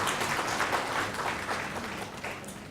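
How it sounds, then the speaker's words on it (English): Audience at a university opening ceremony applauding a panel of speakers, a dense and steady wash of clapping from a full room that tapers off slightly toward the end. "Colleagues, please join me in applauding this distinguished panel of speakers for those opening remarks."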